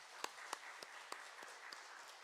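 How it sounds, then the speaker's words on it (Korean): Faint, distant applause from a congregation welcoming newcomers at a Sunday church service, a soft rustling patter broken by a few sharper claps. "우리 박수로 환영하겠습니다"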